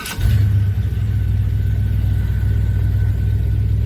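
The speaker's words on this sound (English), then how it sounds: "Did you hear that starter? Man, it sounds so much better." A 1978 Chevy C10 truck engine turns over on a 4.3 starter, then settles into a loud, steady low rumble at close range with no talking.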